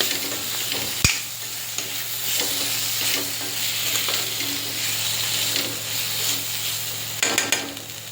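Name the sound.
stirring cauliflower and potato curry with salt in pan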